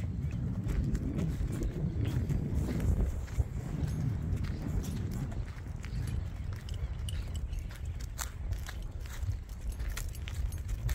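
Muffled hoofbeats of a purebred Criollo horse walking, uneven thuds under a steady outdoor rumble, with faint clicks and no voices.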